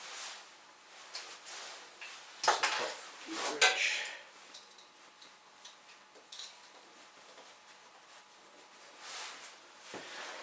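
A screwdriver works loose rusted sump bolts on a Morris Minor Traveller engine, giving scattered metallic clinks and scraping taps up close, with a couple of louder bursts of rattling.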